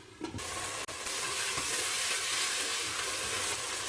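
Chicken sautés in a pan, giving a loud, dense, steady sizzle close by. A clatter comes near the start and a brief dropout follows, with no voices.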